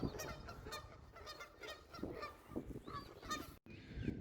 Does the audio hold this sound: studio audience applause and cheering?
no